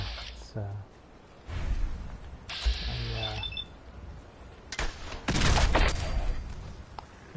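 Rapid gunfire bursts from the player's weapon in Fallout 4 survival mode, several separate volleys cracking and booming across the clip while a voice talks over them.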